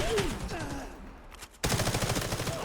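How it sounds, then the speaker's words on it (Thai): Gunfire in the Delta Force video game, rapid bursts of shots with a brief quieter gap before the firing resumes loudly, a voice speaking over the combat. "ได้ยินเสียงยิง"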